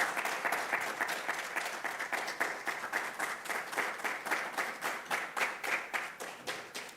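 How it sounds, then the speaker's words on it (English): An audience at a panel dialogue side event gives the panelists a warm round of applause, many hands clapping in a dense, lively patter that stays fairly even and slowly thins toward the end. "warm round of applause?"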